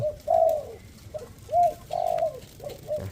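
A zebra dove coos in a rhythmic series of soft, hollow notes, fairly close, with short pauses between phrases and no talking.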